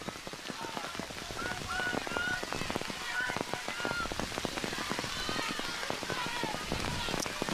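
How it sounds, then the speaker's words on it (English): Steady rain falls outdoors during an ultimate frisbee game, a constant dense patter of drops hitting the ground and surfaces, fairly close and even in level throughout with no pauses. "I think now we're starting to see the rain take a toll."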